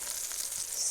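Sliced squash sizzles in a skillet with a steady, close, hissing fry, brief and unbroken, with no talk.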